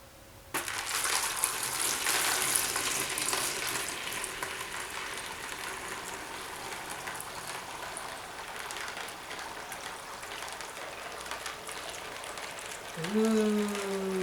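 Dry ice bubbles and fizzes in a DIY Halloween cocktail, a soft steady crackling hiss that starts suddenly and slowly fades, with a brief voice at the end.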